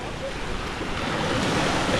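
Sea waves wash onto a sandy beach with a steady, broadband surf roar and some wind noise across the microphone, fairly loud and continuous with no talk.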